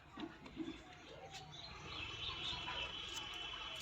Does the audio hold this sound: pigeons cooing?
yes